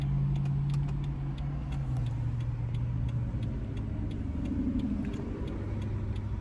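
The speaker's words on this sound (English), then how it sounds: "So yeah, let's drive home." A car drives along with a steady low engine and road rumble inside the cabin, and a faint, regular ticking runs over it throughout.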